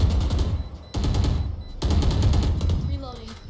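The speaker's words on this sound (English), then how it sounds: "He's just randomly shooting." Rapid gunfire in a video game crackles in three dense bursts separated by brief gaps, loud and close, followed by a softer mechanical tail.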